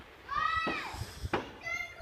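Neighbouring children play outdoors nearby, their high squeals and shrieking voices rising and falling over about two seconds, fairly close, with thumps and bumps in between.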